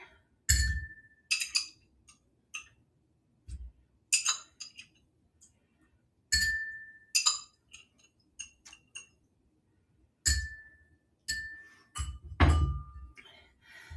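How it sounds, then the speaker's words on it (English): Tart cherries drop one by one into a glass mixing glass, giving a series of sharp, irregular clinks and light thunks spread across the stretch, close and distinct with quiet gaps between. "I have a mixing glass and I'm going to go ahead and put some cherries, some tart cherries"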